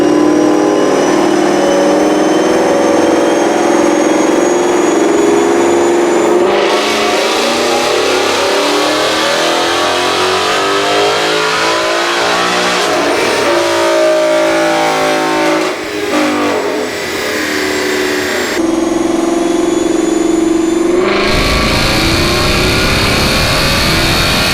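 A 2018 Ford Mustang with a Whipple supercharger on a 3.7 or 3.8 pulley and 93 octane fuel revs hard on a dyno. The loud engine climbs in repeated sweeping pulls through the gears, with the supercharger whining, and the run ends in a sharp full-throttle wail.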